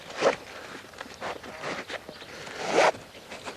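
A nylon saddle cinch is pulled snug on a horse, giving a few sharp zipping rubs of webbing through the buckle, close and clear, with a couple of louder tugs near the start and end.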